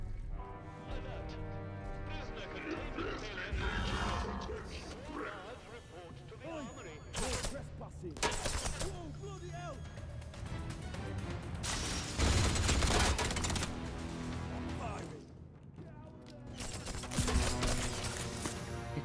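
Gunfire in the survival video game Atomfall, with loud shots and bursts of fire recurring through the scene and crashing impacts among them, mixed with game sounds and voices talking.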